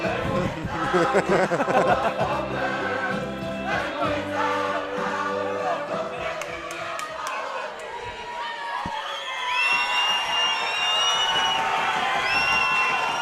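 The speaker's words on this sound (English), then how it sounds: "the crowd is really G'd up for this" Crowd at a kickboxing fight night cheering, whooping and chattering loudly and continuously, with high shouts and whistles rising toward the end and an announcer's voice under the noise.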